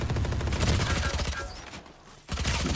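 Rapid bursts of gunfire in the tactical shooter Valorant, dense and loud with a brief lull before shooting resumes, with voices talking over the action.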